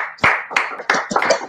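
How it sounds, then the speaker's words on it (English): Several participants in an online meeting clap for Henry, with a few loud, uneven bursts of claps over a short stretch and no talking. "give Henry a round of applause"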